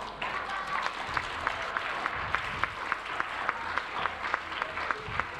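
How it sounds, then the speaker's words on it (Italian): Audience applause at a meeting with a social cooperative at the Puglia Regional Council: steady, moderately loud clapping from a gathered audience, with a few sharper individual claps standing out and continuing throughout. "Un applauso"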